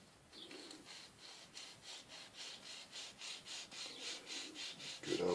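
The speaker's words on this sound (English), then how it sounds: "So this one, I'm going to sand that one." A small part of a D-Day scale model kit is sanded with a sanding stick in quick back-and-forth strokes, a soft rhythmic scratchy rasp about three strokes a second, close but quiet, with no talking.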